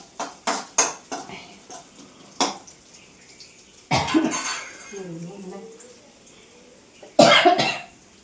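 Coughing and throat clearing set off by pungent kanthari chili in a home kitchen, with clinking dishes and utensils, a few close coughs and harsh bursts between them, and brief talk in the middle.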